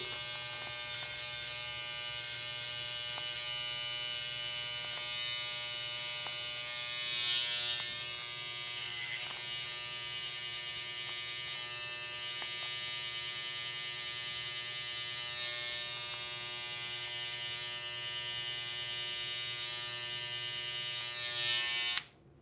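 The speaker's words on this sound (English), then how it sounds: "So let's go, I use the trimmer." An electric hair trimmer buzzes steadily and close while cutting hair for a low-fade buzz cut, with a constant droning hum that shifts slightly in pitch as it moves through the hair and stops abruptly at the end.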